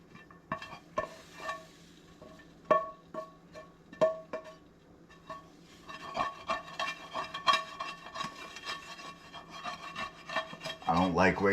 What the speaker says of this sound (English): I'm going to scrape as much as I can scrape off the pan